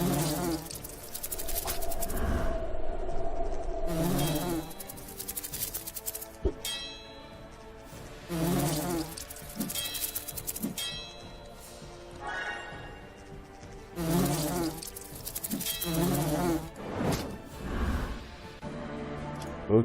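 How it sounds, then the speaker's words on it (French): Green wasps buzzing in the fantasy RPG Lords of Xulima, with repeated loud insect drones that swell and fade in waves over game sounds, no voices. "il faut retoucher la guêpe verte s'il vous plaît"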